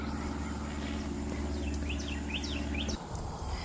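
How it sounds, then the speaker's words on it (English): Small birds chirp in short, repeated rising calls over the steady low roar of traffic on a busy road, the road noise dominating with the birdsong fairly clear above it. "at least we can hear some birds"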